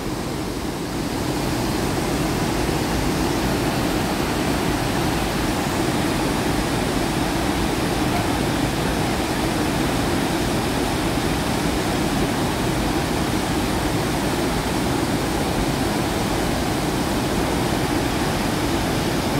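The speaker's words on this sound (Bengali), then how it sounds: "এই হচ্ছে অসাধারণ দশম ওয়াটারফলস। অসাধারণ রূপ, প্রচুর জল।" Dassam Waterfall near Ranchi sends a large volume of water plunging down, making a loud, steady roar that holds unbroken from start to finish with no voices.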